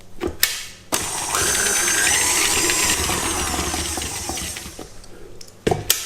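An electric mixer whisks cake batter with salt, lemon zest and vanilla for a gluten-free lemon, almond and ricotta cake, giving a steady motor whir for about four seconds, framed by a few clunks before and after.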